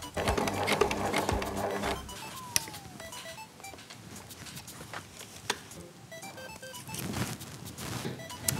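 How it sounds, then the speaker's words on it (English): A sewing machine runs a double top stitch along a pocket on a garment, its steady mechanical whirring and rapid needle ticking continuing at close range with short pauses and faint beeps. "So to make the pocket extra strong, I want to do a double top stitch."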